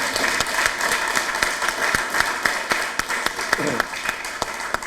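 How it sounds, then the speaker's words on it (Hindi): An audience at a televised interview show claps for a devotional singer, steady dense applause sustained throughout with sharper individual claps standing out and a voice speaking over it. "इनके लिए ताली बजाइए।"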